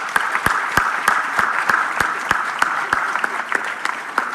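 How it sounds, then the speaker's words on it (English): An audience at the 3i Africa Summit 2026 claps in a steady, even rhythm of sharp, evenly spaced hand claps, loud and close, with a faint murmur of voices beneath. "Ladies and gentlemen, put your hands together."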